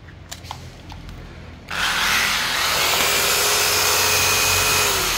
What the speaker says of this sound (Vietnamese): Tiếp tục là một con cưa lặn